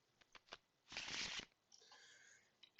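A deck of cards is riffled and shuffled in quick bursts during a tabletop game of Smash Up, crisp and close in a quiet room.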